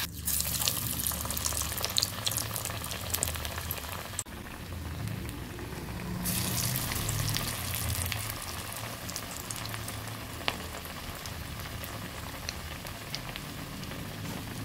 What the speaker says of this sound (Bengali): এবার এক এক করে পেঁয়াজগুলো ভেজে নিচ্ছি।